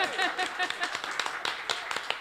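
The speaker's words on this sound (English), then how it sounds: "wait, are we clapping for that? I think we should" A few people clap briefly in a radio studio, scattered close-up claps mixed with chatter and light taps.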